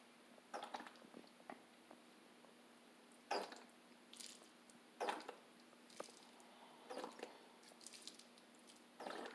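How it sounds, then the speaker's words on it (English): Water is poured into the bottom tray of a plant pot, giving quiet, intermittent trickles, drips and soft splashes in separate bursts over a low steady hum. "So I water it from down here,"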